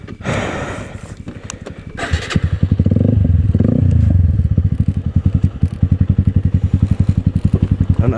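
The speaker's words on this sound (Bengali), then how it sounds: "আমার বাইক সবারটা নামাই দিলাম, আমারটাই হচ্ছে মেইন, এখন আমারটা নামাইতে পারলেই হলো।" Motorcycles are eased down a slope outdoors, with rough scraping and clattering at the start, then a loud, steady engine drone and a rapid rhythmic ticking that carries on to the end, heard close.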